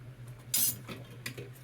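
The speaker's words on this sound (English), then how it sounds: "I almost got my dishes washed." Cutlery and dishes clink sharply twice while being washed by hand, close by, over a steady low hum.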